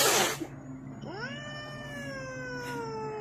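A single drawn-out cat meow, rising then slowly falling, clear and close, following a brief burst of noise at the start.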